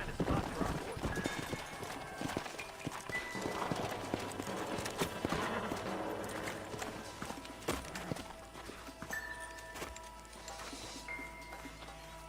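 Horses gallop in Red Dead Redemption, a rapid, irregular clip-clop of hooves with clattering tack that carries on for about twelve seconds before easing off.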